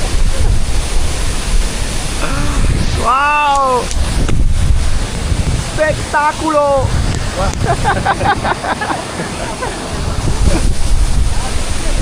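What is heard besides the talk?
30-metre waterfall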